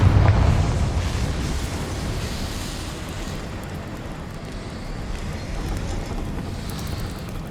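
A Confringo fire-blast spell in Hogwarts Legacy erupts in a single deep boom at the start, then decays into a long, roaring, wind-like rush that fades slowly without any talk.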